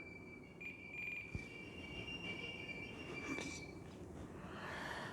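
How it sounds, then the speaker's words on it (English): A cat scratching herself on a chair in a living room, giving a continuous rasping, squeal-like scrape with a steady high whine, fairly loud and close, with a sharp tap near the start and no voices. "the cat was scratching herself on our chair and it sounded like a train going through our living room"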